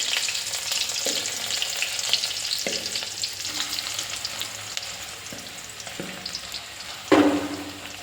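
Green chilies and potatoes fry in hot oil with cumin in a pan, giving a steady, close sizzle with a few sharp crackles and stirring clatters, loudest near the end.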